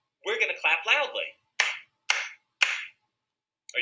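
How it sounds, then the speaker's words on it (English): Children clap in a classroom music lesson on dynamics, first a quick run of soft claps, then three loud, separate claps spaced apart, with silence between and one more clap starting at the end. "When Dusty's hand is low, the dynamics are quiet. So we're going to clap quietly."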